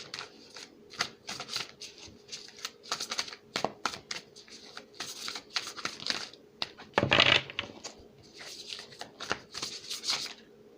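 Stiff tarot cards that resist shuffling, as if sealed in cellophane, give off a busy run of dry riffling, snapping and crinkling bursts, close and fairly loud, with one heavier clatter partway through.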